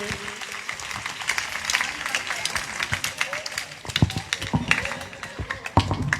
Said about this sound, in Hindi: अब सबकी जोरदार तालियों में हमारी बहन ताज को लहराते हुए